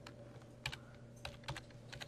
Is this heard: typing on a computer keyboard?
yes